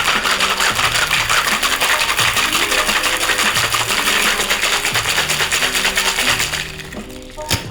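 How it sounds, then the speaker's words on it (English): Cocktail shaker packed with as much ice as possible, holding a pineapple martini with pineapple juice, shaken hard in a steady, continuous rattle of ice against metal that stays loud and close before easing off at the end. "Then shake it like you hate it"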